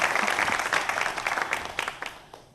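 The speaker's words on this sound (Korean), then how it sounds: "큰 박수 부탁드리겠습니다" Applause from a seminar audience after a lecture at a youth startup talk event: a dense, steady clapping wash that tapers off toward the end.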